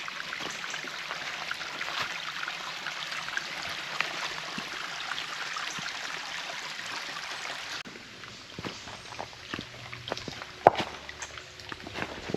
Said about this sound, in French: Il y a un ruisseau. Une sorte de petite chute.